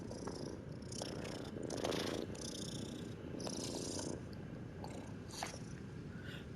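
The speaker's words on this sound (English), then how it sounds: "Like, I can hear my cat." A pet cat purrs close to the microphone, a faint steady rumbling drone with soft rustles and brief scraping sounds over it.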